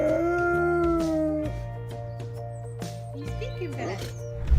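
A dog lets out a long, wavering howl that tapers off, followed by quieter whines and yips over a low background hum.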